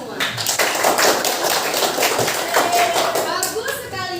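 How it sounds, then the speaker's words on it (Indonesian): Classroom of middle-school students clapping together, a dense steady patter of many hands throughout, with children's voices mixed in. "tepuk tangan buat kita semua"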